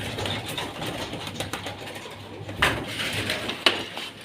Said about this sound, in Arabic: ده بقيه الحمام